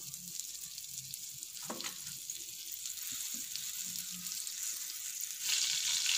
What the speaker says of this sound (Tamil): இப்போ நம்ம இதில் பட்டர் போட போகிறோம்.